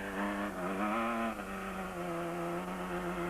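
A single-seater race car engine holds a loud, steady high-pitched drone with slight revving shifts in pitch, continuous throughout at a race circuit with no talk.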